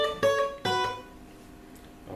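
Guitar playing a slow melodic phrase, two plucked notes ringing out one after another and decaying into near silence, alone with no talk.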